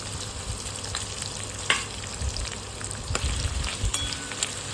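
Raw cut potatoes frying with salted green chilli paste in a pan for sabudana khichdi, giving a continuous close crackling sizzle with occasional stirring scrapes and light knocks.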